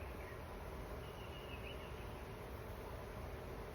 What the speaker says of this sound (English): We've got a lot more bees than we had earlier.